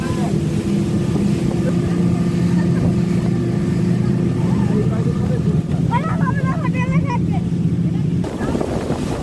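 A motorboat ride on the water at Maithon Dam: a steady, loud engine drone runs throughout with water and wind noise, and voices come through briefly near the end.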